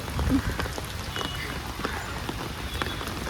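Steady rain patters and hisses across the whole stretch, with people talking over it.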